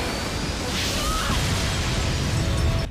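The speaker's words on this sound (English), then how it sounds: "that's a pretty big explosion" A big explosion in the anime My Hero Academia, a dense, continuous roar of rumble and crackle that stays loud through the whole stretch before cutting off abruptly.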